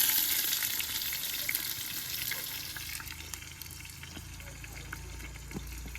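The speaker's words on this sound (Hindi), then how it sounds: "हुन डाल देंगे प्याज" Onions frying in hot oil give off a steady, close sizzle with a bright crackling hiss that slowly eases, with no talking.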